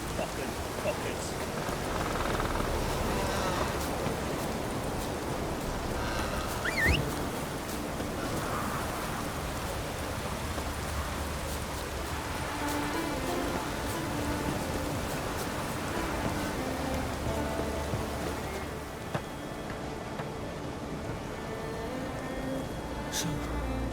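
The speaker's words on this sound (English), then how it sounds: "Raining fucking buckets." Heavy rain pours steadily in The Witcher 3, a constant broadband wash with occasional distant voices and game sounds mixed in beneath it.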